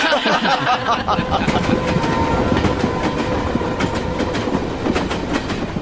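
Train running fast on rails, a loud continuous rumble with a steady clickety-clack rhythm, heard from close by with faint voices underneath.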